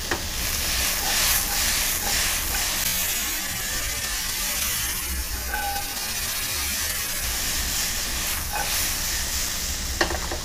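Vegetables fry with a constant loud sizzle in a pan, a dense close hiss running unbroken for the whole stretch with occasional light clicks and stirring scrapes.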